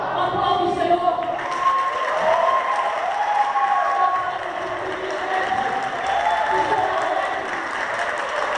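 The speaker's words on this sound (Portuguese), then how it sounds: "Aplaude o Senhor." Congregation applauding at a parish gathering in a church, sustained clapping mixed with crowd cheers and whoops, voices rising and falling above the noise throughout.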